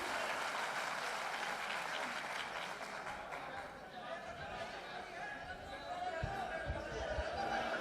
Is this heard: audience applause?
yes